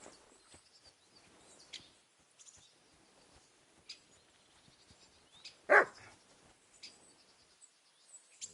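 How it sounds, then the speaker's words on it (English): A single sharp dog bark rings out in a quiet medieval village in Kingdom Come Deliverance 2, set against faint ambient birds and insects with small scattered sounds around it. "Barking?"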